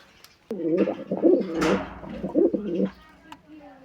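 Pigeons cooing at a nest with 17-day-old chicks, a close, loud burst of throaty rolling coos lasting a few seconds, with a brief rustle in between.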